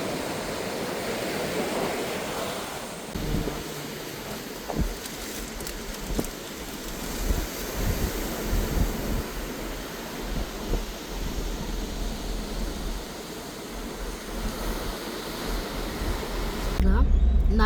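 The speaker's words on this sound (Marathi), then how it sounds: "लाटा बघू शकता तुम्ही." Sea waves wash onto an isolated beach at Nandgaon, Alibaug, at high tide, a broad continuous surf roar with wind, while a person talks intermittently over it.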